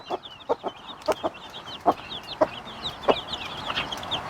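Chickens clucking repeatedly in an irregular rhythm, with higher chirps and cheeps scattered throughout, nearby and moderately loud.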